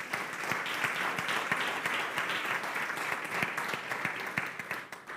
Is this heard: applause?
yes